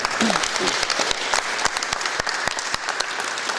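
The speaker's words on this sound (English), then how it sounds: "let's give one last round of applause for all the folks that have gathered here" Hands clap in a steady round of applause from people gathered at an outdoor climate rally, sharp individual claps standing out over the crowd's continuous patter for a few seconds.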